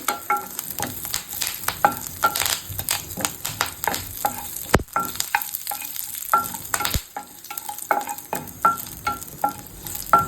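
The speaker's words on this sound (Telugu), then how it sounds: "వేసుకుని ఒకసారి మూడింటిని బాగా వేయించుకోవాలి" Chillies and curry leaves sizzle and crackle in hot oil for dhokla tempering while a spoon scrapes and stirs the pan in irregular clicks.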